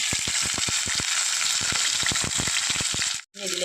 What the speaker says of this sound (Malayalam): ഒരു ടീസ്പൂൺ ഇഞ്ചി വെളുത്തുള്ളി പേസ്റ്റ് ചേർത്ത് കൊടുക്കാം